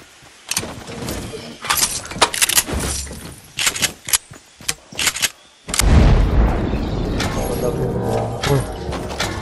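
Grenade launcher rounds in Fortnite Battle Royale, a series of sharp cracks and bursts followed by a big sustained explosion rumble, close and loud.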